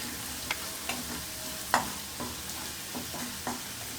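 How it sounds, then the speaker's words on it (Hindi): Spice masala fries gently in oil over low heat for an aloo-torai sabzi with plenty of garlic, giving a soft, steady sizzle broken by a few light clinks of stirring, with no voices. "क्योंकि मसाला मैंने तेल में भूनना है"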